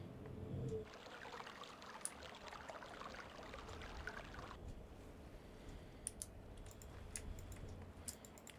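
Water trickles faintly in the Myst video game, a soft continuous dribbling wash with scattered light ticks and clicks over a quiet background, no voices.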